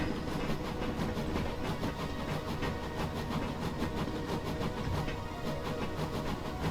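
A train in a train-driving simulator hauls a rake of wagons, a steady continuous rumble with faint rhythmic clicking of wheels over rail joints, no talk.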